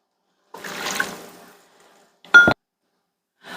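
Water poured from a measuring cup into a bowl for clam chowder, a single soft splashing pour lasting about a second, followed by a brief louder clink of glass or cup against the bowl.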